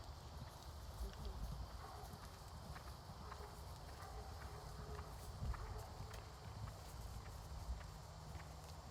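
A horse's hooves stepping on ground, a fairly dense run of soft clip-clop footfalls at moderate distance over steady background noise, with people talking faintly.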